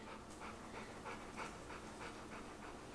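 A puppy pants close by in a fast, steady rhythm of breathy huffs, several quick breaths each second, with no one talking.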